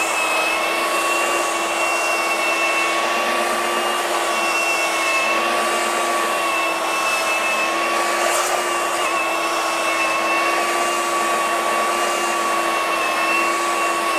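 A DEWALT 20V XR 3"x21" cordless belt sander (DCW220) running on speed level 5, a steady close motor drone with a constant high whine, unbroken for the whole stretch with no talk.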